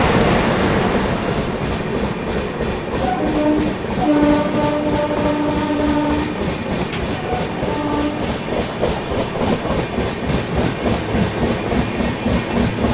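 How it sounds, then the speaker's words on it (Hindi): Arunachal AC Superfast train accelerating along the track in heavy rain, wheels clattering in steady rhythm, with a prolonged horn sounding in the middle and the rumble building as it gathers speed. "यहाँ पर अपनी गाड़ी ने एक्सेलरेट करना स्टार्ट कर दिया"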